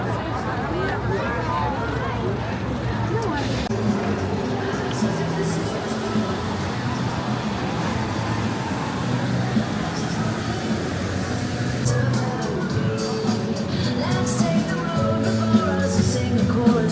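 Crowd babble at a funnel cake stand at Dollywood during the Smoky Mountain Christmas opening day, a steady dense hubbub of many overlapping voices and footsteps throughout.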